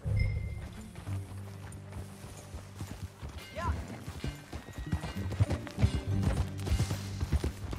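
Horse hooves clip-clop in Red Dead Redemption 2, steady rhythmic footfalls of a walking horse at close range, with a brief whinny and characters speaking over the riding.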